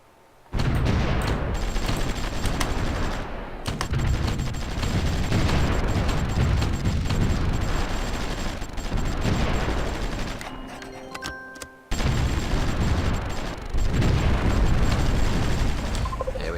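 Artillery fire from the strategy game Supreme Ruler Ultimate rolls on as dense, continuous booming barrages with a crackle of blasts, loud and sustained, broken by one brief pause before it resumes.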